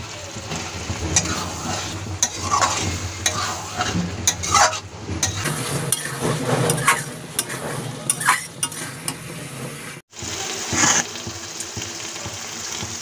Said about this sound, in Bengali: এখন দিয়ে দিচ্ছি কেটে রাখা আলু।